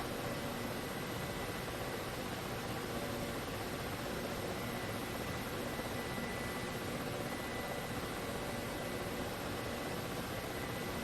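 Steady, loud engine and rotor-like roar of an aircraft in flight on a test flight, filling the whole stretch as constant broadband noise with no talk.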